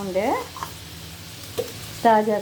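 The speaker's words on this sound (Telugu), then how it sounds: "ఉండే చుక్కకూర వేసుకుని మగ్గపెట్టుకున్నాం, వేయించుకున్నాం." Sorrel leaves (chukkakura) fry with softened tomatoes in a pan, a low, steady sizzle running throughout, with short voiced sounds near the start and end.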